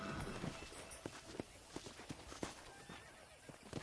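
A horse in the video game Red Dead Redemption whinnies at the start, then hooves clip-clop in quick irregular steps, fairly faint and close.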